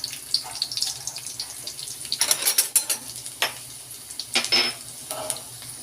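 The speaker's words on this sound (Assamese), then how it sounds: "নহৰু দিয়াৰ পিছত খুব ভালদৰে এইদৰে লৰাই ল'ব।" Finely chopped garlic with cumin seeds frying in a pan for chana dal while a utensil stirs it, producing a soft sizzle broken by scraping and clinking strokes, close and fairly quiet.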